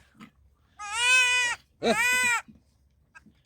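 A young goat kid bleats twice while being fed milk in the morning at a village farm, two loud, close, wavering cries with a short gap between, over faint background noise.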